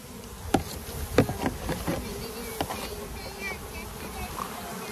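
A dense, steady buzz of about 10,000 honeybees fills the background while mating nucs are set up, with a few sharp knocks and brief voices breaking through.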